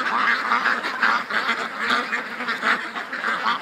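Several ducks quack repeatedly in a loose, overlapping chorus, fairly close and steady throughout.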